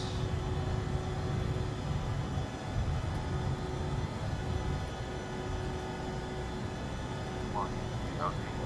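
An Embraer E145 jet on its takeoff roll in a flight simulator, a steady engine roar and whine with a constant high tone, running under someone talking.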